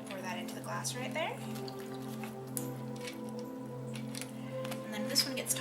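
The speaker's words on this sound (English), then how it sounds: "Go ahead and pour that into the glass right there." A bourbon cocktail is poured into a glass in short, light splashing trickles and drips, heard beneath people talking.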